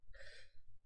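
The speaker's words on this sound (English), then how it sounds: "I'm yawning" A single drawn-out yawn, a breathy voiced exhale lasting just under a second, close and fairly quiet, over a low steady background hum.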